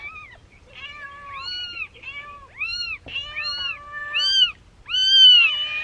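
Several young kittens meow in a rapid series of rising, high-pitched cries, close and fairly loud, with only brief pauses between calls and no talking over them.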